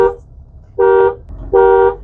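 Horn of a Mahindra XUV700 SUV sounding three times: a brief toot, then two longer honks about a second apart, loud and close.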